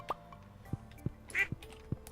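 Farm chickens in the video game Stardew Valley make a handful of short, faint clucking calls over quiet game ambience, with one slightly louder call in the middle.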